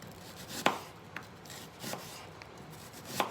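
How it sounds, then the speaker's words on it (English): A dull kitchen knife slicing food thin on a cutting board, several soft separate cuts spaced a second or so apart, close and quiet with no talking. "I want to try to get it as thin as I can"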